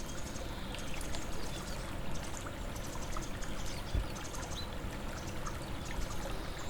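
A river flows steadily, giving a continuous rushing, trickling wash of water with no break across the stretch. It is moderately quiet and heard from nearby, with no talking.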